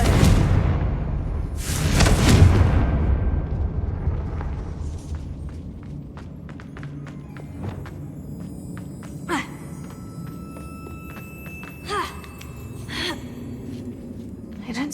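Confringo spell blast in Hogwarts Legacy: a loud whooshing boom bursts out early, then fades into quieter echoing magical rumbles and scattered sparkling hits.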